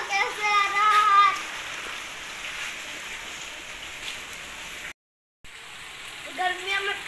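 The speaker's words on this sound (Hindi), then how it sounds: "आज देखो बारिश हो रही है बहुत तेज" Steady, dense rain hissing throughout in a village in Pakistan, with a voice and talking heard at the start and again near the end.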